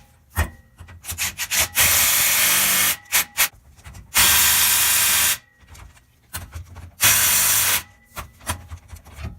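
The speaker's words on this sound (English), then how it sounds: "I'm just using an impact, but just make sure you get these super tight." An impact wrench tightens brake caliper bolts during a front rotor and pad replacement on a 1999–2004 vehicle. It gives three loud, sustained rattling bursts of about a second each, separated by clinks and handling noise.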